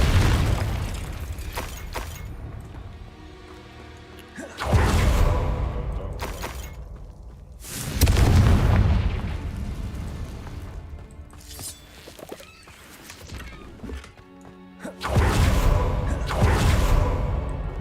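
Confringo fire spells blasting in the Hogwarts Legacy video game: a series of loud, heavy explosions with booming impacts and crashing debris, each burst swelling then decaying, separated by quieter stretches of game sound.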